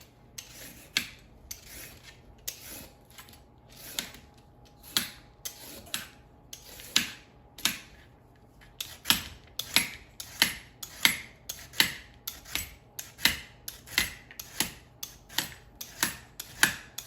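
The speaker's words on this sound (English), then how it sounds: "You peel them with a vegetable peeler, same way as you're peeling carrots." Parsnips are scraped with a vegetable peeler in a long series of short, crisp rasping strokes, close and fairly regular, with brief pauses between them.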